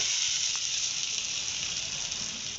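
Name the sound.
washed lentils (dal) sizzling in hot oil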